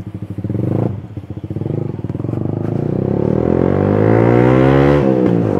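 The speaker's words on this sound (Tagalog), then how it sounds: "medyo mabilis na ako, so maingay yung muffler at the same time yung wind noise." Motorcycle ridden fast, its loud muffler roar rising steadily as it accelerates, mixed with rushing wind noise, close and continuous.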